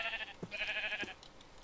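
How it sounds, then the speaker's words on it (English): Sheep bleat in the video game Minecraft, two wavering calls in quick succession at moderate volume over a faint background hiss. "Oh, and there's sheep, too."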